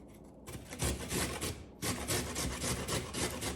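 Carrots are grated by hand for carrot cake, close rhythmic rasping strokes in two bursts separated by a short pause, loud and alone.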